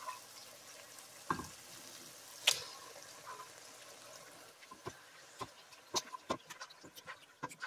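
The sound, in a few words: marinated pork and pork liver frying in pan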